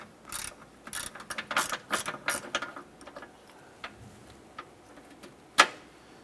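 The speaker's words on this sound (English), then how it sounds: "We're going to use an E5 inverted Torx socket on our 1/4" ratchet." A 1/4 inch ratchet with an E5 inverted Torx socket loosening a bolt on a 2015-2020 Cadillac Escalade front impact sensor, with close rapid clicking in quick bursts, then quieter ticks and one sharp knock near the end.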